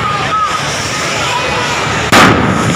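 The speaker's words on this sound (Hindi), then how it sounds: "यहाँ पर आतिशबाजी यहाँ पर हो रही है" Fireworks go off at an outdoor Holika Dahan bonfire celebration, with steady crowd noise and voices before a sudden loud burst near the end.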